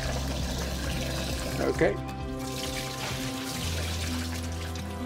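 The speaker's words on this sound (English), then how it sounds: "So we go up to the sink, cold water." Cold water runs from a kitchen sink tap to rinse homemade butter and wash out the milk, a steady pouring stream close by with a brief louder splash midway, while a person speaks over it.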